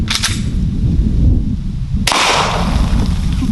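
A .45 handgun fires silver bullets, two sharp loud reports about two seconds apart, each with a booming tail filling the space between, and no talking.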